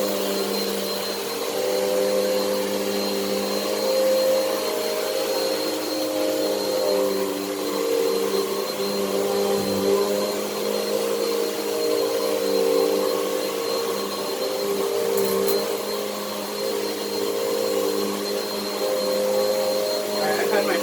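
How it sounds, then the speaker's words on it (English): A Bissell CleanView OnePass upright vacuum cleaner drones continuously at close range on plush carpet, a steady motor whine with slight rises and falls as it moves. "You always want to vacuum slow so it has time to get up everything."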